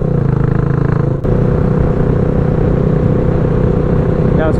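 A Suzuki GN400 bobber motorcycle idling close by with a loud, steady rumbling engine throb. A brief sharp click breaks in partway through, and the idle carries on unchanged.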